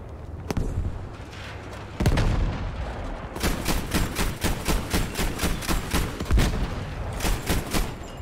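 Cannon fire in Battlefield 5, opening with a couple of heavy single booms, then a rapid, evenly spaced string of loud sharp blasts repeating about twice per second over a rumbling battlefield background.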